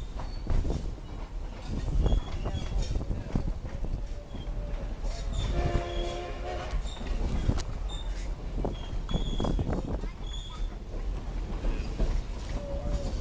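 A Durango and Silverton railroad train rolls past during a railfest, a continuous heavy rumble with rattling cars and a brief horn-like tone midway, fairly close and steady with no talk.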